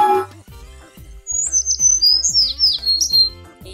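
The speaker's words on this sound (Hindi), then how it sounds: "यह आवाज है चिड़िया की।" A small bird chirps and trills in quick high tweets over a rhythmic low pulsing background, loud and close with no voices.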